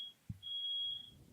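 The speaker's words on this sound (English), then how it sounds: "You can hear the alarm going off." A fire alarm in an apartment building sounds over a phone line, a steady high electronic tone that cuts out briefly, then holds on, with a faint thump and low line noise beneath.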